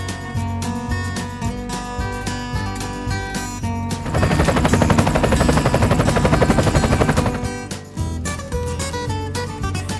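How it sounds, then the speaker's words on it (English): A toy police helicopter plays its electronic effects: a steady, loud tonal hum with a busier, rattling rotor-like burst in the middle before the hum returns. No voices. "Police helicopter."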